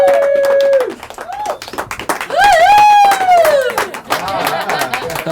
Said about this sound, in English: I heard a lot of clapping.